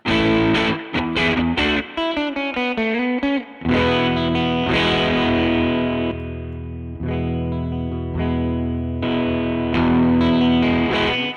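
An electric guitar through a Benson Stonk Box pedal set as a clean boost plays notes and sustained chords with a lightly driven, boosted tone, loud and close, with no talking.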